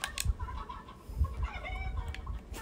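A chicken in the video game Fortnite clucks in a few short, bursty calls over a steady low game rumble, fairly close and moderately loud.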